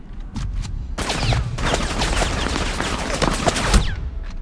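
Bursts of rapid automatic gunfire rattle through a match of the mobile shooter game Rainbow Six Mobile, dense overlapping shots sounding for several seconds after a couple of brief isolated pops.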